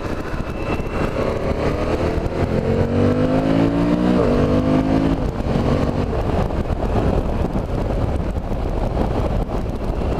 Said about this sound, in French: Ah, c'est un bon moteur, hein, ça...